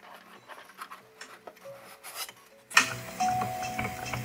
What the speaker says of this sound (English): Removing the foam parts.